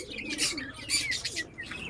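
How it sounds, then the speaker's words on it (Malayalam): Doves in a pet shop give soft, repeated coos and chirps in short bursts, fairly quiet against a faint background hum. "ഇത് ഡോവ് കേട്ടോ."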